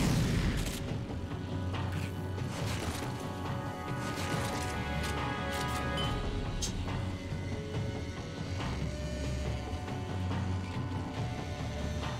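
Grenade blast in the video game Rage: a dense, booming rumble of explosions and crashing debris that runs continuously and loudly for the whole stretch, with no clear gaps.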